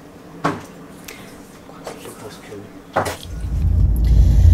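A couple of dull thumps like a car door, then a low engine rumble rises and keeps running steadily toward the end.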